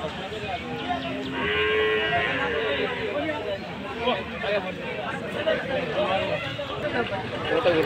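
At a Tuesday livestock market for buffalo, a nearby buffalo lets out a long moo over the steady chatter and talk of a busy crowd.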